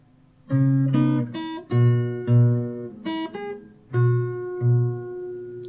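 Acoustic guitar plays the verse of a song fingerstyle, a few plucked chords and melody notes ringing out with lingering low bass, close and clear, solo with no voices.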